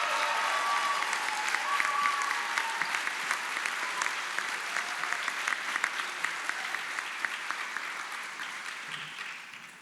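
Audience in a hall applauding two award-winning students at a senior night awards ceremony, a sustained wave of clapping from many hands that gradually tapers off.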